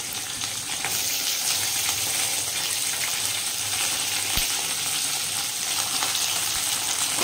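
Vegetables hit hot oil already seasoned with five-spice tempering and dried red chilies for a noodle dish, giving a steady, loud, close sizzle that holds throughout with a few faint clinks and scrapes.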